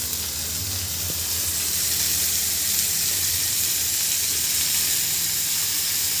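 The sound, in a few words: onions frying and sizzling in a pan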